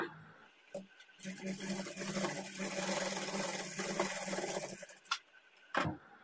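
A sewing machine hums through one steady run while stitching the darts of a plain blouse, fairly quiet, with a few handling clicks before and after.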